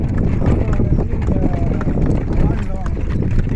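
Horse hooves clip-clop at a steady trotting rhythm, fairly close and loud, mixed with outdoor noise and background voices talking throughout.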